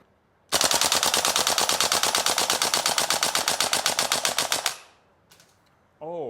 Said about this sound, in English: When I shoot with full auto, I was feel like okay, let me try it.